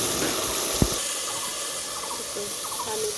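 Water poured into a cooking pot over spices such as turmeric, chili, cumin, garlic and ginger paste while making a bottle gourd and fish curry, giving a steady running-water wash with one brief clunk near the start.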